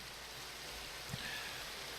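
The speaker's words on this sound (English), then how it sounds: "I need this rain to stop as well." Steady rain patters continuously in a modded Minecraft world, a soft, even hiss at low volume with no talking.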